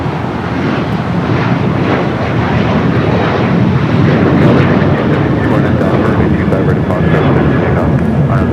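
A Boeing 737 MAX 8 airliner at Los Angeles airport roars in a continuous broadband jet wash, swelling slightly midway, with a person talking over it.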